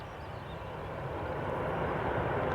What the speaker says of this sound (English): the Emirates is just taxiing into position now.